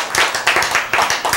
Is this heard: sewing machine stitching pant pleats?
no